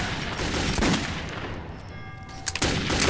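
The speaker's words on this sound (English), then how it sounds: "I meant to miss two of those shots." Gunfire in the video game Metro 2033, a loud burst of shots ringing through a tunnel-like space, then a quieter echoing stretch before a couple more sharp reports close together.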